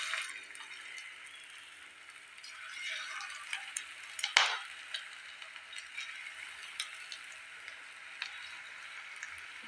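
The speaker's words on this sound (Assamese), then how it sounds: "মই অলপ কম কমকৈ দি ভাজি ল'ম" Potato snack pieces fry in refined oil in a kadai over a low gas flame, giving a faint, steady sizzle broken by small crackling pops and one sharper spatter.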